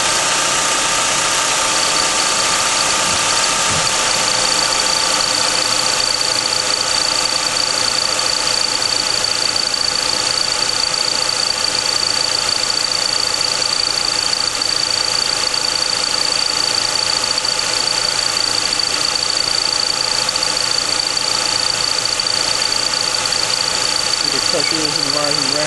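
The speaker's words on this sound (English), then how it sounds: "I'm going to start the engine and take note of the pressure as the engine is warming up." A 2004 Chrysler PT Cruiser engine idles while warming up during cooling system checks, a steady, continuous mechanical hum with a faint high whine, unchanging for the whole stretch.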